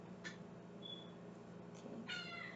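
A cat gives a couple of short, fairly faint meows, one early and a clearer, slightly longer one near the end, over a low, steady room background.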